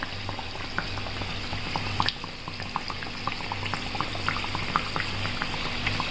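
Kachori dough frying in hot oil until brown, a steady bubbling sizzle with many tiny pops and crackles, close and even throughout.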